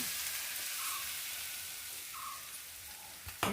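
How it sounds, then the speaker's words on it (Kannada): Oggarane tempering sizzling in hot oil, heard as a steady, fairly faint hiss that continues throughout and ends with a short sharp clatter. "ಒಗ್ಗರಣೆ ಹಾಕೊಂತ ಇದ್ದೆ"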